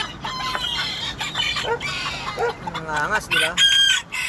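A bantam rooster crows and clucks nearby among other chicken calls, with short rising and falling cries, while someone speaks over the birds.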